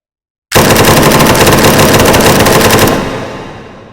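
A long, loud burst of fully automatic rifle fire in the VR shooter Hot Dogs, Horseshoes & Hand Grenades, rapid continuous shots for about two and a half seconds that end abruptly and leave a fading echo.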